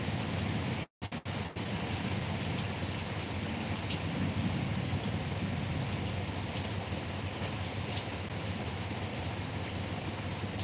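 Steady rain falls outdoors as a dense, even wash of noise, broken once by a brief gap near the start, with no voices over it.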